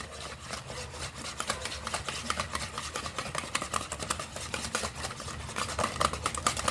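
Ground dates and butter being mixed by hand for a sugar-free date cake, with steady close scraping and stirring strokes against a bowl, repeating in an uneven rhythm with no talk.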